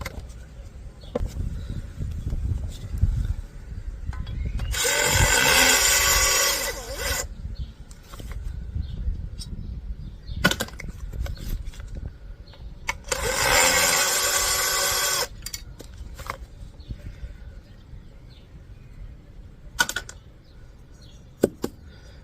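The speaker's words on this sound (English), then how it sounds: "they are screwed in, as you can see, so we will get the screws off of them" A powered screwdriver removes screws from aluminium pieces of a first-generation flat-screen TV being scrapped. It runs in two close bursts of a few seconds each, with clicks and metal handling between them.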